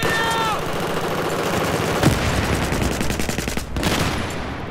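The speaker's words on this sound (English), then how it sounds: "machine gun from the building crates" Loud, sustained machine gun fire in a Battlefield 4 firefight on the Caspian Border map, with rapid dense bursts and a sharper crack near the middle, while a voice speaks faintly beneath.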